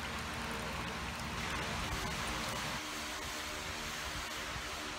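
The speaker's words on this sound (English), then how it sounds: "Sorry for the fan noise" An electric fan runs indoors in a warm room during a bucket grow-system build, giving a loud, steady broadband whir that fills the whole stretch without a break or any talking.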